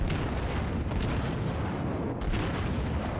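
Naval gunfire from a battleship in World of Warships firing high-explosive shells, a dense, continuous booming rumble with several heavy blasts layered over each other, loud and sustained throughout.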